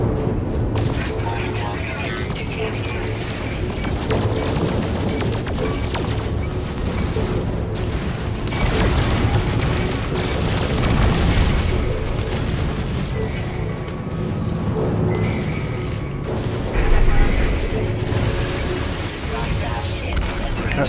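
Explosions and heavy weapon fire destroying a freighter turret in the space game No Man's Sky, a dense, continuous barrage of booms and rumbling blasts throughout, with a voice talking over the din.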